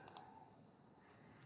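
Two quick, faint computer mouse clicks close together at the start, then quiet room tone.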